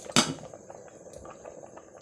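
A metal pot of cooked rice is lifted off the stove, with one sharp clanking knock at the start and then faint scattered clinks and scrapes nearby.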